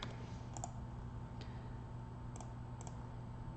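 Sparse keyboard typing at a computer: a handful of separate key clicks, quiet and close, set over a steady low background hum with no talking.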